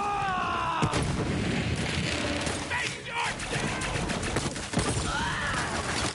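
Grenade blasts and gunfire in Borderlands 3, a dense run of booms, cracks and explosive bursts layered with game effects, loud and continuous.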